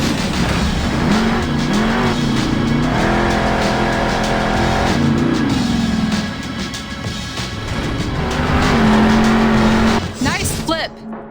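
Monster truck engine roaring in the Monster Jam Steel Titans video game as the truck launches off a jump and front-flips, loud continuous revving that rises and falls with tire noise and a brief squeal, with game voice over it.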